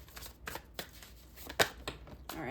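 Tarot cards are shuffled close to the microphone, a quiet series of soft riffling flicks and slaps in an uneven rhythm, with one sharper snap near the middle.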